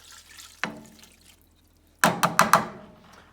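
Beef broth is poured in two short bursts, a brief splash, a pause, then a longer liquid pour with a few splashy pulses, close and fairly loud with no talking.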